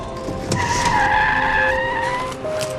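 A car skids hard in a near miss, its tires squealing loudly and close by for close to three seconds. The squeal holds steady and sharp, then fades a little at the end. No one speaks over it.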